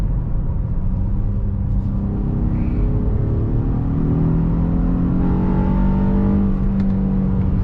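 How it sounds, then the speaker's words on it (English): A Honda Passport TrailSport V6 with VTEC revs up as it drives, a close, loud rumbling engine whose pitch rises steadily under constant road noise, with no talking. "I can't get enough of that VTEC noise."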